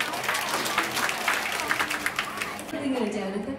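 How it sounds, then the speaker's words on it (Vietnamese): A concert crowd at a Vietnamese benefit music night claps loudly and densely to welcome a singer on stage, the applause fading as a voice begins speaking near the end. "một tràng pháo tay thật lớn"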